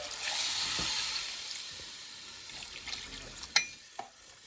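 Water poured into a cooking pot of Iraqi biryani with cardamom, a steady broadband sizzling rush that fades slightly, followed by two sharp clinks near the end.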